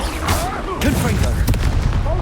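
A Confringo fire curse blast in the Hogwarts Legacy video game lands as booming, crackling bursts amid game effects and whooshing tones, with a shouted voice over it.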